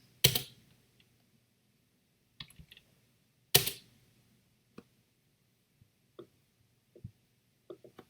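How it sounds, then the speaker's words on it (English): Sparse, quiet keystrokes on a computer keyboard while entering text into a Java JTextField program, a few isolated taps and short clusters of clicks separated by silence, with two sharper louder clicks standing out, no voices. "I'll type in a word"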